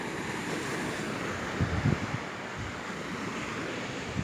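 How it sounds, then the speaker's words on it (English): Ocean surf washes onto the beach at Runaway Bay, Jamaica, a steady broad roar of waves mixed with gusty wind buffeting the microphone, no voices. "this beach is located right behind Jewel Runaway Bay"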